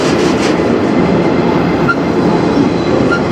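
CN freight train rolling past in Sarnia, Ontario: a steady, loud rumble of railcars with faint wheel squeal and clatter, continuous throughout and alone without voices.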